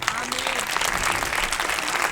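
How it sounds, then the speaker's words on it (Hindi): Loud, steady applause from a church congregation during a Sunday service sermon, dense clapping filling the whole stretch, with some voices mixed in. "एक बार जोरदार ताली बजाइए।"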